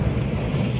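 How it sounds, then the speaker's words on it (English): Steady rushing water from the underground waterfall at Gringotts in the Hogwarts Legacy video game, a continuous, loud, broadband wash with no other sounds. "That waterfall washes away all enchantments."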